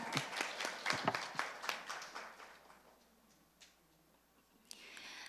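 An audience at a university education forum claps to welcome a graduate student presenter, a quiet, scattered round of applause that thins out and fades after a few seconds, with a couple of isolated claps near the end.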